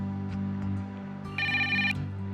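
A phone rings once in a television drama scene, a brief bright electronic ringtone trill that rises clearly above a steady low hum and background music.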